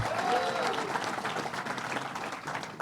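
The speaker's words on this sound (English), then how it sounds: "Give him a big round of applause." Audience applause at a public announcement at Belmont Park race track, a dense wash of clapping from a large crowd that stays fairly even for a few seconds.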